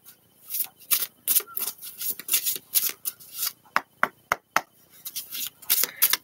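A deck of tarot cards is shuffled by hand up close, giving crisp, papery riffling bursts in an uneven rhythm with short pauses between them.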